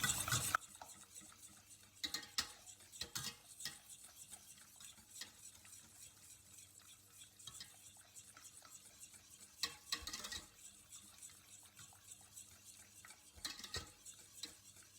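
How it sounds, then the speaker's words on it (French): Thickened milk whisked firmly in a pan with the heat off, quiet repeated scraping and stirring strokes with occasional louder clinks of the whisk against the metal. "on fouette un petit peu fort pour pas qu'il y ait de grumeaux"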